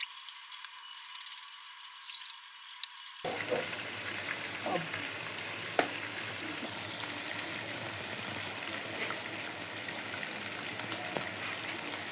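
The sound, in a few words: fish frying in hot oil in frying pan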